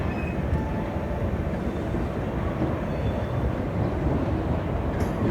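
The 12071 Deccan Janshatabdi Express departs Chhatrapati Shivaji Maharaj Terminus in Mumbai, a steady low rumble of wheels and carriage noise heard from inside a nearly empty coach, continuous and fairly loud, with no talking.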